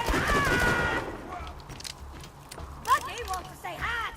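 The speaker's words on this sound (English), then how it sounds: "Let's settle this with my brand new gun" A brand new gun fires in Borderlands 2 amid game noise and voices. A few sharp shots and mechanical clatter come in short bursts near the end.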